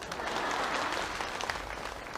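A theater audience at a Yanbian comedy sketch show applauds with steady, dense clapping, a brief moderate burst with no voices over it.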